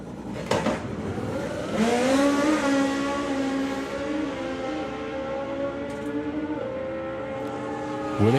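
A drag racing car at a summer nationals event makes a pass, its engine howling loud with a rising then sustained whining roar that fades slightly toward the end, heard from trackside.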